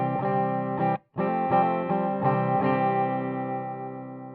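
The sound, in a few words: electric guitar through Fender Tone Master Pro into amp effects return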